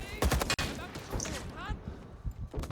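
Gunfire in the video game Rising Storm 2 as a captured machine gun is fired, with dense rapid bursts at the start and scattered shots and battle noise afterward, while a player talks over it.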